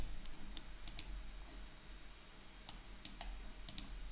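Sparse, faint keystrokes on a computer keyboard as a short command is typed, isolated clicks spaced out with quiet pauses between them.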